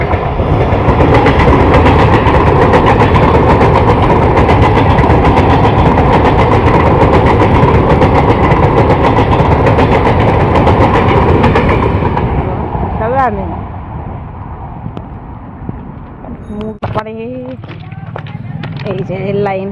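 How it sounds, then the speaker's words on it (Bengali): A train runs along a village railway line, a loud, steady rumble with clattering wheels that carries for about twelve seconds, then fades, leaving quieter ambience and voices. "ট্রেন আসছে, ট্রেনের আওয়াজ হলো, ওই তো ট্রেন আসছে"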